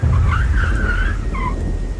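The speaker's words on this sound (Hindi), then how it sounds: "मुझे अपने पीछे गाड़ी के ब्रेक की आवाज़ सुनाई पड़ी" A cab brakes hard and its tires let out a drawn-out screech over a low engine rumble, then a second shorter squeal sounds close by as it stops; no voices.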